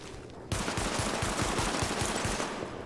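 Rapid automatic gunfire during a weapon test in The Division video game, a loud sustained burst of closely spaced shots starting abruptly and running for over two seconds.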